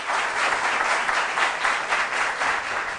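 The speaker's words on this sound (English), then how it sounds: "A round of applause to both teams, please." A quiz audience gives steady, dense applause for both teams, a continuous wash of many hands clapping at even loudness for a few seconds with no voices above it.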